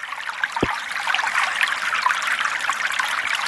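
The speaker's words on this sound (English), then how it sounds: "The rushing water noise by the farm. I know, it's loud." Loud, steady rush of stagnant water beside a farm in the video game Total Miner, a continuous bright hiss with one brief low thump near the start.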